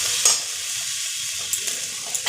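Mooli greens cooked with gram flour are stirred hard in a pan over high heat, a continuous frying hiss broken by a few sharp scrapes of the spoon.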